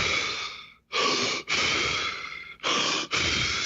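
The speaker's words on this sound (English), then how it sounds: "Now the breathing protocol is essentially hyperventilation." Forceful Wim Hof method hyperventilation breathing: a quick series of loud, close, deep inhales and exhales in an uneven rhythm, with brief gaps between breaths and no speech.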